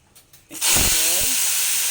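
Water poured into a hot pan of caramelised onions with turmeric and chilli powder bursts into a loud, steady sizzling hiss that starts abruptly and holds, after a few soft knocks.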